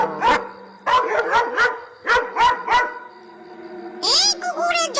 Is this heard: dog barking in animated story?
yes